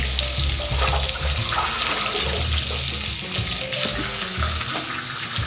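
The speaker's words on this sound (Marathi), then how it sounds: "हे कांदा व्यवस्थित भाजून घ्यायचा आपल्याला." Sliced onion frying in a pan with curry leaves for chicken vade, a steady close hiss and sizzle with faint bubbling, carrying on alone without talk.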